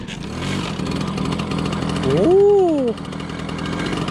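A 1987 MBK 51 Magnum moped engine sputters and runs with a steady, rough two-stroke chatter, briefly rising in pitch as it catches, while a man exclaims once over it.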